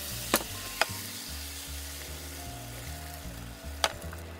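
Asparagus omelettes fry in oil in a pan with a steady close sizzle, broken by a few sharp clicks and taps.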